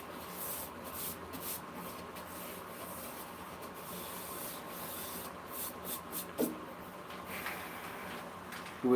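Steady soft rubbing hiss of sandpaper against spinning cherry wood on a lathe, continuous and fairly quiet throughout, with a few brief louder scrapes near the end.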